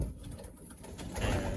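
Racing pigeons coo softly inside a loft, a low continuous burbling close by with no talk.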